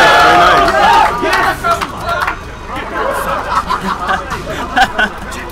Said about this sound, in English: The crowd's going wild and I'm just hearing all these roars